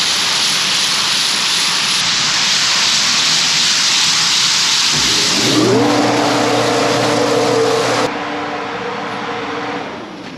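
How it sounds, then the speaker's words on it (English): Shelled corn from a grain bin spreader rattling against the bin's walls, a steady dense hiss that turns into a looping mechanical hum as the spreader's drone rises midway, loud and close without talk. "can hear the corn hitting the walls of the bin. That's that spreader spreading it around."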